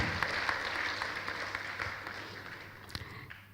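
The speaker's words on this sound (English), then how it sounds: "Everybody please give a huge round of applause for Satish Sinha sir" A round of applause for a special guest at a B.Tech orientation program, a steady wash of many hands clapping at moderate level, fading slightly over a few seconds with a low hum beneath.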